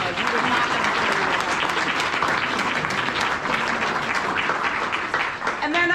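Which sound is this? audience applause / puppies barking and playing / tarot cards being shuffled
audience applause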